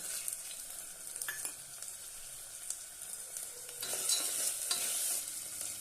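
Sprouted moth beans and peanuts being sautéed in a pan, with a steady sizzle under repeated scraping and stirring strokes, growing louder and hissier toward the end, with no talking.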